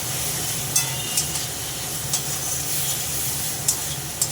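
A spice paste of turmeric, chili, cumin and coriander fries for a fish curry, giving a steady low sizzle with a few sharp spatters and scrapes of stirring.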